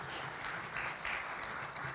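Audience at a civic day luncheon in Hamilton claps steadily for about two seconds, a moderate, even patter of many hands filling the room at medium distance.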